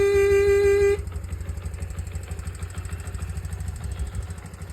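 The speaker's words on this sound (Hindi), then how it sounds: "20 साल पुराना बाइक आज स्टार्ट हो चुका है।" Twenty-year-old repaired motorcycle engine idling, opening with a horn blast for about a second, then a close, steady low putter with a regular pulsing rhythm carrying on alone.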